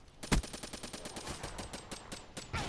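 Rapid automatic gunfire in Black Ops 3, a fast, even train of shots fired without pause. A sharper, louder crack comes near the start and another heavy shot lands at the very end.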